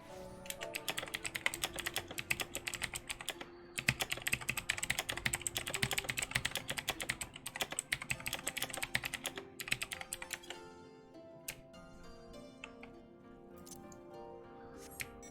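Rapid typing on a clicky mechanical computer keyboard, bursts of sharp close key clicks with brief pauses, ending in sparser, slower keystrokes.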